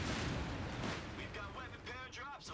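Booming artillery fire from a bombardment vehicle in Company of Heroes 3, a heavy roaring blast up front that trails into rumble, with a voice talking faintly underneath toward the end.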